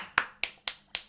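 Four sharp, evenly spaced claps from the player character in the game Flock, crisp and fairly quiet with nothing else around them.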